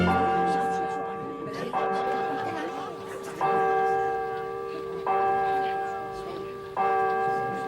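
A chapel bell rings in a French radio drama, sounding four or five slow, resonant strikes whose humming tones overlap and fade between hits, loud and close.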